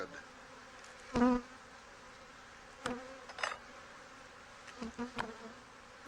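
Honey bees in an open backyard hive buzz with a low steady hum, broken by a few louder passes as single bees fly close by, with no smoke in use.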